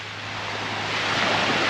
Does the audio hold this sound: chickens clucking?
no